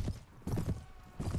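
Horse hooves clip-clop in the medieval combat game Mount & Blade Warband, a few close, muffled thuds in uneven rhythm.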